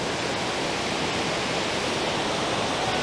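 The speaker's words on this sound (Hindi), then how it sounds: "यहाँ से पानी ओवरफ्लो होकर आगे जाता है" Lake water overflowing through a spillway at Udai Sagar Lake in Udaipur roars as a steady, dense rush of water, constant and fairly near with no talk.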